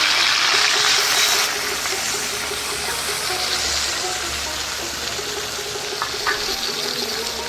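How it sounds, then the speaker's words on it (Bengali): Fish pieces rubbed with salt and turmeric fry in hot oil for fish kalia, a dense hissing sizzle that is loudest at the start, then settles to a steady, close crackle. "মাছ নুন হলুদ মাখিয়ে রেখেছি, ভেজে নিই"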